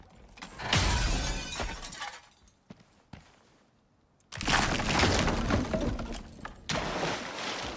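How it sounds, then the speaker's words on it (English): Glass shattering in a video game, two loud crashing bursts of breaking glass separated by a brief quieter gap with scattered clinks, followed by a further crash. "The lovely breaking glass sounds."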